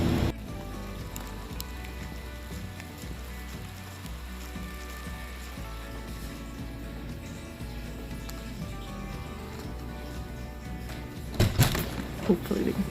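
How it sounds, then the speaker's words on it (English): Steady rain hisses and patters continuously at an even level, with a few louder knocks and clatters near the end and no talking. "It's still raining."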